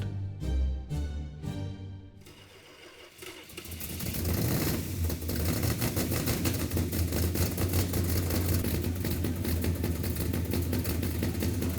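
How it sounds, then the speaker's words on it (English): Hemi engine fired up on an engine run stand for a 1971 Hemi 'Cuda, a few sharp cranking pulses, then a catch into a loud, rough, steady idle rumble that holds for the rest of the clip. "And fired it up on the engine run stand."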